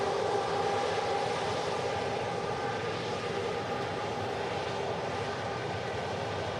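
Boeing 737 MAX airliner engines at Manchester Airport in windy conditions, a steady broad roar held at an even, moderately loud level throughout, with no voices.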